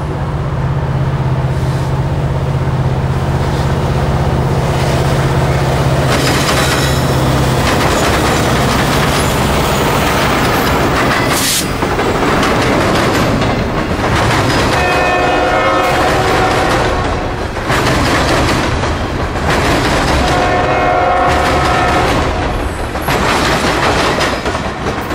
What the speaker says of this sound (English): At 1630, Norfolk Southern stepped up with southbound 125.